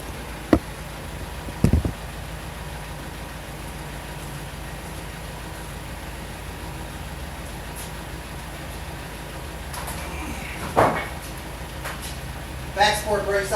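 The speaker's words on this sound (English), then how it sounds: "then we'll use the tractor to transfer it up to" A tractor carrying a greenhouse bed base on its forks at an off-grid aquaponics greenhouse, a steady low engine rumble throughout with occasional clunks and metallic knocks near the end.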